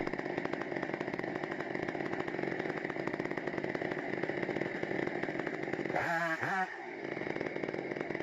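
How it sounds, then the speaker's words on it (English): A chainsaw runs steadily at high revs while felling giant trees in a forest, a loud continuous engine whine that briefly bogs down and swoops in pitch near the end before settling back to a constant roar. "A chainsaw operator studies the angle, wind direction, and tree lean before making the first cut."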